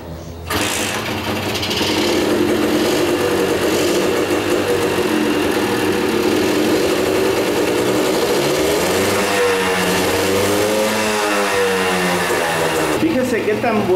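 A Kawasaki KS II-50 motorcycle with a newly installed carburetor starts and runs, a buzzing small two-stroke engine holding a steady drone, then rising and falling in pitch as it revs near the end, close and loud.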